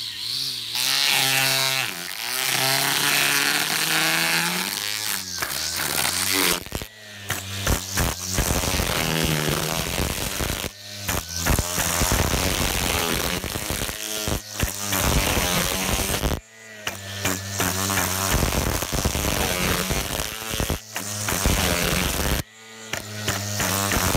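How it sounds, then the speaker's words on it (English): A Stihl 36 volt battery string trimmer chews through cardboard, a loud buzzing whine with repeated bursts of ragged shredding, briefly stopping between cuts and then resuming, close by and without voices. "Let's start with this Stihl 36 volt string trimmer."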